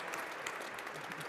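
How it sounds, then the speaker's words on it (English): Steady applause from a seminar audience, dense clapping throughout the short clip with no voices over it. "I think that deserves a round of applause."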